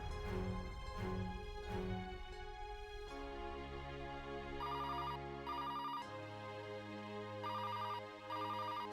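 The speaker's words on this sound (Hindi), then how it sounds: "वो किसका फोन आ गया?" A phone rings with a high trilling electronic tone in short repeated bursts over soft background music, faint and without speech.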